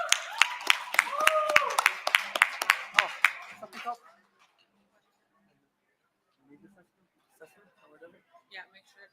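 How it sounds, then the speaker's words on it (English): A short burst of applause from a youth summit audience, sharp overlapping claps for about four seconds that stop abruptly, followed by near silence with faint scattered voices and small noises. "Give him an applause."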